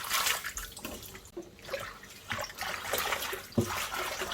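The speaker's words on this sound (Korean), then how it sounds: "식초를 넣고 씻어 줄 거예요." Pickling greens (sea parsnip and green garlic) being washed in vinegar water, with continuous close splashing and sloshing of water and a few sharper drips and clunks, with no one talking.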